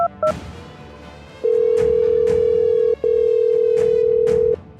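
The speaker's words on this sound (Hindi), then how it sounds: "फोन मिलाओ।" Telephone dial tone while a call is placed: a couple of short keypad beeps, then a long steady tone, a brief break, and the tone again, loud and close.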